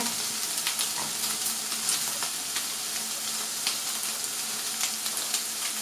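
Chopped onion sizzles in a hot pan with browned fat while cooking for bigos, a steady close frying hiss punctuated by small pops and occasional stirring clinks.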